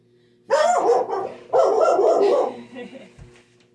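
A dog barks indoors in two loud, close bursts of rough, repeated barks, trailing off into a softer whine, over a faint steady background hum.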